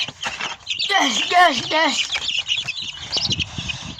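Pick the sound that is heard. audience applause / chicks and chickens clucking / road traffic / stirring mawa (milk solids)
chicks and chickens clucking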